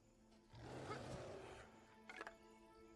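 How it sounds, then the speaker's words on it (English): A large creature's roar in Elder Scrolls Online rumbles for about a second, loud and broad, followed by a brief metallic rattle; no one speaks over it. "I heard that roar."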